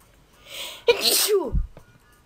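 One loud, sharp sneeze bursts out after a brief intake of breath, close and abrupt, then fades quickly.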